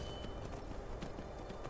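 Horse hooves clip-clop in the Skyrim video game as a rider sets off, a faint steady gait of soft repeated footfalls over a constant noisy game background.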